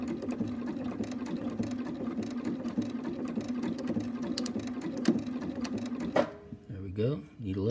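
A sewing machine stitches along a paragliding sewing jig with a loud, steady mechanical whir close by, then stops abruptly about three quarters through as someone talks.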